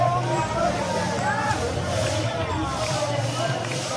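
A dense crowd of pilgrims walking toward the Pandharpur temple, a steady close murmur of many overlapping voices and shuffling feet, with traffic hum underneath throughout.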